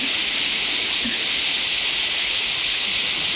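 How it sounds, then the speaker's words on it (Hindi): Heavy torrential downpour at night on a village road, a dense continuous hiss of rain that stays loud and unbroken from start to finish, with no talking. "और मूसलाधार बारिश होने लगी"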